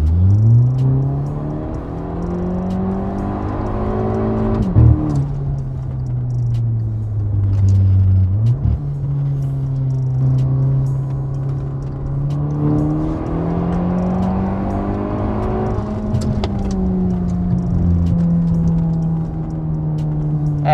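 A Mercedes car driving in heavy city traffic, its engine holding a steady low drone with gentle rises and dips in pitch as it creeps along. No one speaks.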